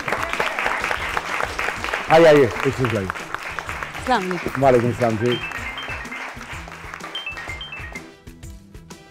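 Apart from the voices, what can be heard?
studio audience applause for guest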